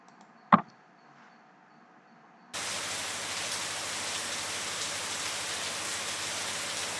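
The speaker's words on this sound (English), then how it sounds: "You could find a heavy downpour during the daytime" Heavy daytime downpour during the Chennai rains, starting abruptly after a brief knock and then roaring as a steady, dense wash of rain close by with no voices.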